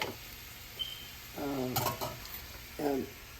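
Tawa pulav being stirred in a pan, a soft steady sizzle with scraping and clinks of the utensil, while voices talk briefly over it.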